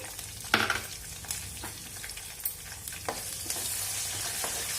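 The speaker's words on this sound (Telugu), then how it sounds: "వేసుకొని ఫ్రై చేసుకోవాలి. పచ్చిమిర్చి వేసుకొని ఏంటంటే కొంచెం ఉప్పు యాడ్ చేయాలన్నమాట, తొందరగా వేగిపోతాయి." Green chillies fry in a pan with a pinch of salt for a vegetable masala rice, giving a steady close sizzle broken by occasional stirring scrapes and clatters, with no voices.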